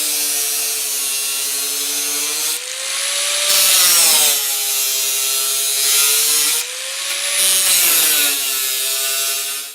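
Rear fender of a Jeep Grand Cherokee being cut with a power tool, a loud, steady high-pitched whine whose pitch sags and recovers in repeated passes as the blade bites into the metal, with no talking.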